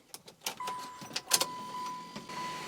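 The electric sunroof motor of a Mitsubishi Lancer Evo 8 hums faintly in a thin, steady whine, broken by a series of sharp mechanical clicks and ticks up close.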